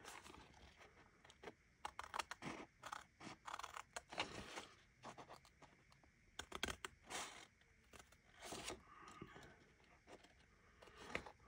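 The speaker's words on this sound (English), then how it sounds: "Let's just trim around this edge." Scissors trim around the edge of a paper craft, producing repeated quiet, close snips in irregular bursts with short pauses between cuts.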